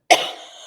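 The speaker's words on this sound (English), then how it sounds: "please excuse me for the cough" One sharp, close cough from a person recovering from a bad cold, a sudden loud burst that fades into a brief raspy tail.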